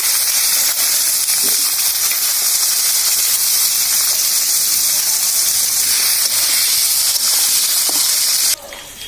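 Cut potatoes and eggplant hit hot oil in a pan for a fish and greens fry, a loud close continuous hissing sizzle that cuts off abruptly near the end.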